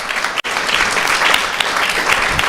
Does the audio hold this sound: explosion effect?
no